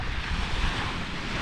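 Waves at Lang Co Beach wash in a steady, broad rush, mixed with heavy wind buffeting the microphone and no clear individual breakers.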